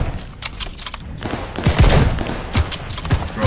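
Rapid bursts of gunfire in the video game Call of Duty Vanguard, loud and close, with overlapping shots and heavy low impacts during a multiplayer firefight.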